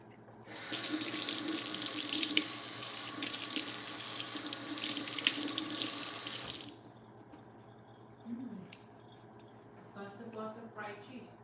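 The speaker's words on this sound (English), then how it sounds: "wash my hands" Tap water gushes loudly into a kitchen sink for about six seconds while someone washes their hands, then stops abruptly, leaving faint handling clatter and quiet speech near the end.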